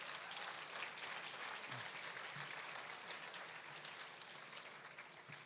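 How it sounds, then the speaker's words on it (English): A graduation ceremony crowd applauds a graduating grade, a dense, even wash of many hands clapping that sounds distant and faint, sustained throughout without voices. "Give them a round of applause"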